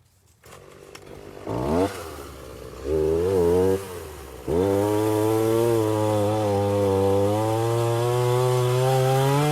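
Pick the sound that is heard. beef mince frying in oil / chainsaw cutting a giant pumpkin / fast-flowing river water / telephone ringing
chainsaw cutting a giant pumpkin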